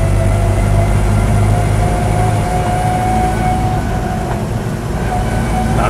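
A Land Rover Series IIa on the move, heard as a loud, steady low engine drone and road rumble from inside the vehicle, with no breaks.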